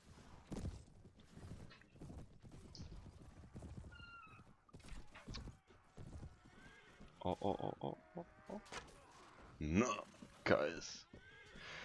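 A horse whinnies and neighs several times during a Mount&Blade Warband battle, rising clearly over steady Polish-language talk and the clatter of combat, with the loudest calls near the end.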